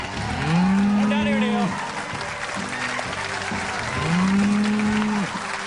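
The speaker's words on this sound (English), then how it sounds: "please welcome our cow and our goat. Here they are." A cow on a TV game show stage lets out two long, loud moos, with steady applause and crowd noise around them.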